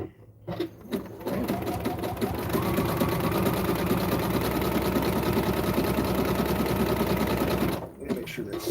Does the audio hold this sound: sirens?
no